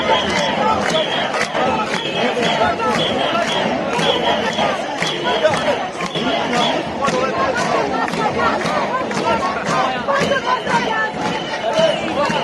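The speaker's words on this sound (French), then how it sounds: "Et la foule arrive, place de la République est juste ici." A large street crowd gathering at Place de la République in Paris, a continuous loud roar of many voices, shouts and chants with rhythmic claps or bangs throughout.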